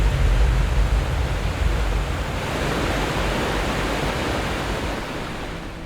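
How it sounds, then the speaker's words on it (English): A steady, broad roar of a large waterfall in Victoria, Australia fills the air, loud and continuous, easing slightly toward the end. "one of the largest and most spectacular waterfalls in Victoria"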